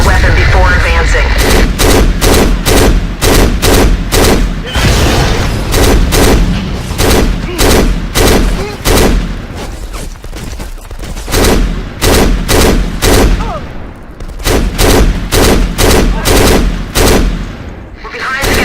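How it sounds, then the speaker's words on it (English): Loud, dense gunfire in the first-person shooter video game Black as mines are set off, with rapid repeated shots and blasts filling the whole stretch nearly without pause. "detonate the mines with your weapon before advancing"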